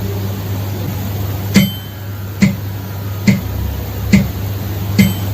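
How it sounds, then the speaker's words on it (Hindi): A metronome set to four beats ticks steadily, with five crisp clicks under a second apart over a constant low hum. There is no talking. "अब आप यहाँ पर एक मेट्रोनोम की आवाज सुन पा रहे होंगे।"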